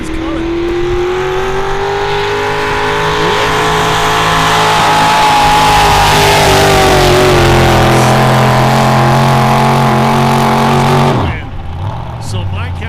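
A Ford drag racing truck at the NHRDA Big Sky Truck Fest roars loud and close with a sustained engine drone that slowly drops in pitch, then cuts off abruptly near the end, while a commentator talks over it.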